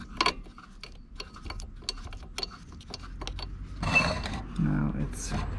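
A socket wrench turns a spark plug back into an abandoned German SABO lawnmower engine, giving close irregular ratcheting clicks and metallic taps, with some rustling handling noise near the end.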